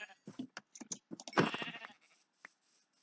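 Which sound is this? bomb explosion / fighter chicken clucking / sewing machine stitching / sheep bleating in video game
sheep bleating in video game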